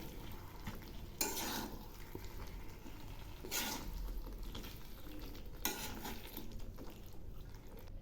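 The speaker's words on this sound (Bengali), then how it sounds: "এবার নেড়ে চেড়ে নামাবো।" Mixed winter vegetables and beans being stirred in a pan for a Bengali bean chachari, with a spatula scraping in three distinct bursts over a steady low sizzle.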